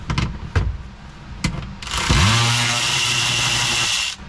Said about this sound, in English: Getting a 10mm and loosening like that.